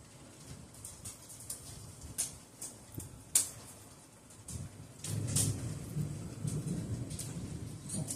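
Deep rolling thunder from a strong thunderstorm with wind, rain and hail, a sharp crack near the middle followed by a long, louder rumble over steady rain noise.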